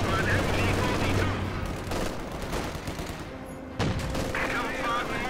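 MG-42 machine gun in Company of Heroes 2 rattling in rapid bursts among scattered battlefield gunfire, fairly loud, with soldiers' voices calling out over it.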